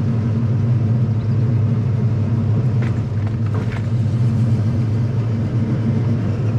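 A flood-damaged Vauxhall Corsa SRi drives along with a steady low engine rumble and road noise, loud and close throughout, no voices.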